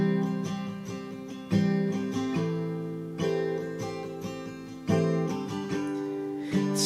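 Strummed guitar chords change every couple of seconds in a steady chorus progression, each strum ringing and decaying; no singing or speech.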